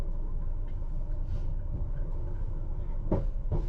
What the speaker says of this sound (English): The train is just coasting along.